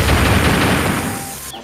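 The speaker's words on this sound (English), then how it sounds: "Why is your gunshots coming from behind me?" In the ZombiesWaves video game, rapid gunfire crackles as a loud, dense burst of overlapping shots that fades slightly before ending abruptly.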